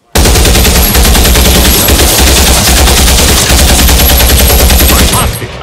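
Sustained rapid gunfire from a soldier shooting in a war film roars loud and close for about five seconds after an abrupt start, then cuts off.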